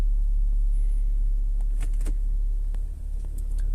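A 2016 BMW 740 LD idles steadily just after starting, a loud, close, continuous low engine rumble with a brief dip in level near the end.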